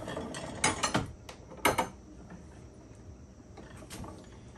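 An antique Pease No. 25 apple peeler's gear and ratchet mechanism runs up close, giving a burst of sharp metallic clicks and clacks, then a fainter mechanical whir and rattle.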